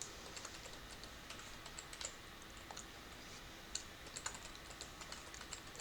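A BIOS password is typed on a computer keyboard as quick, light key clicks in an irregular run, with a few sharper taps standing out, close and fairly quiet over faint background hiss.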